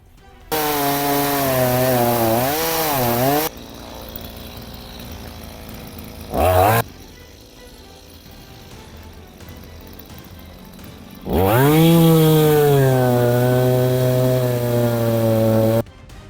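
A Stihl MS 172 chainsaw cutting an 80 cm linden log revs loudly in two long bursts of cutting, with a brief rev between them and a quieter idle in the gaps.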